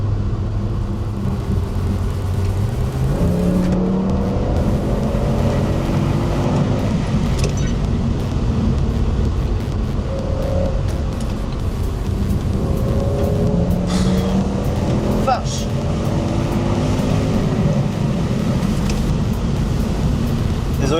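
Audi RS6 C6 with its V10 biturbo engine at high speed, a loud steady roar with rising gear pulls and road rumble from inside the cabin, with someone talking over it.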